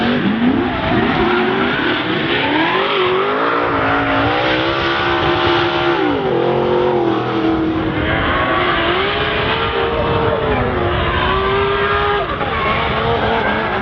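Drift race cars including a Mazda RX-7 competing at D1NZ Taupo, loud continuous engine revving with rising and falling pitch, layered with squealing tires and skidding, close and unbroken throughout.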